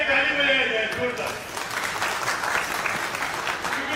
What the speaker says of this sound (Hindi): ताली बजाई जाए जोरदार